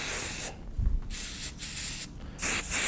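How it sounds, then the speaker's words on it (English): Flexible hairspray hisses in several broad bursts as it is sprayed onto a hairbrush while styling an updo, close and steady with brief gaps between sprays. "going to be spraying it with the hairspray directly on the brush"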